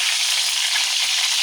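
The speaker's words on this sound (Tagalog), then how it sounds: "Nanginginig ako sa katakot ng talsika ng mantika" Fish frying in hot oil in a pan, a loud, dense, continuous sizzle with crackling spatter, close and steady, no voices.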